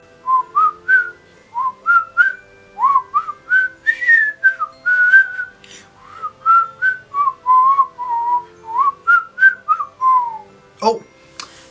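Someone whistles a bouncy, cheerful theme tune alone, phrase after phrase in a clear steady melody, ending with a brief sharp noise.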